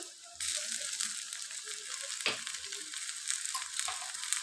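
Ginger and garlic paste hitting a hot pan, a sudden strong sizzle that starts abruptly and holds steady, with faint stirring clinks and a soft scrape partway through, close and fairly quiet overall, no talking.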